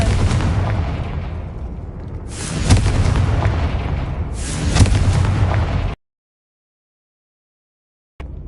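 Two loud, close magical blasts from the Confringo fire spell in the video game Hogwarts Legacy, each a sudden broadband burst decaying over a second or two, followed by abrupt silence and a brief return of sound at the end.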